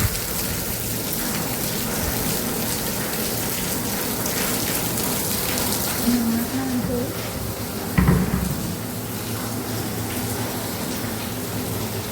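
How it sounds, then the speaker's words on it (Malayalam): Heavy rain hisses steadily outside, with a brief clunk and a faint knock indoors near the end. "പുറത്ത് നല്ല മഴയാണ് കേട്ടോ"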